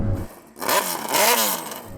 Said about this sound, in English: Go on, Chris, can you rev up your bike?